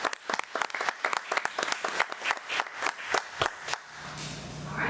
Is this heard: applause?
yes